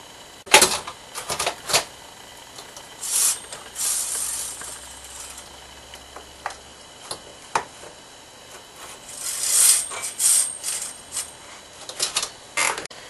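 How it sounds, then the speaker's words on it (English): A knitting machine carriage is pushed across to knit the first row, giving a string of sharp mechanical clacks and ratcheting clicks in uneven bursts, fairly close and clear, with no talking. "So I'm going to knit my first row"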